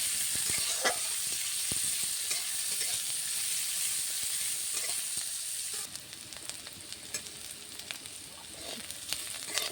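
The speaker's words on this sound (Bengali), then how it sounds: "পেঁয়াজটা ওইভাবে ভেজে নেব।" Onions frying in hot oil for a Bengali leafy-greens stir-fry give a steady, close, loud sizzle with occasional spatula scrapes and stirs, no voices.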